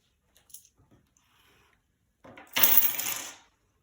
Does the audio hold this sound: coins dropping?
yes